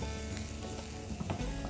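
Garlic and onions sizzle steadily in hot oil in a pan, a dense continuous frying hiss with a few stirring knocks near the end, close and without talk.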